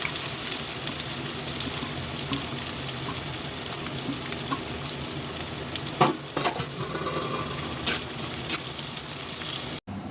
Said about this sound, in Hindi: बिरयानी के लिए हम कांदा पहले फ्राई कर लेंगे।